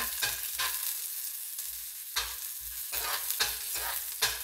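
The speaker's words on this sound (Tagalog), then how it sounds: "Umpisa na tayo guys, ang gisa ng bawang." Garlic sautés in hot oil at the start of chicken tinola, with a soft continuous sizzle and a run of distinct scraping stirs against the pan, close up and with no one talking.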